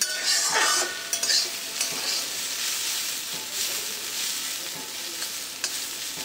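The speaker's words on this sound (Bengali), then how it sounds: "এই হচ্ছে আলু ভাজা মোটামুটি রেডি হচ্ছে।" Potato pieces fry in a little oil in a pan, a constant loud hissing sizzle with occasional scraping and stirring knocks near the start, heard close up with no voices.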